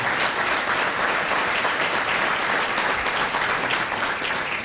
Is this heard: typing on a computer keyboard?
no